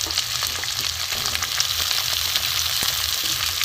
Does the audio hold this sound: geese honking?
no